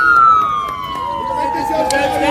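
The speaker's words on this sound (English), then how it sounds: "Ambulance is heading somewhere to go help somebody." An ambulance siren passes on the street across from a firehouse. Its loud, close wail sweeps steadily downward in pitch as it goes by, over constant traffic rumble.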